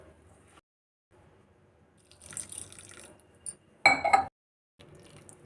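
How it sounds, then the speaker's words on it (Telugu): Water poured into pakora batter in a bowl, with brief splashes and drips in short separate bursts, the loudest a close splash near the middle, among quiet pauses. "ఇంకొంచెం వాటర్ పోసుకొని కలుపుకోవాలి."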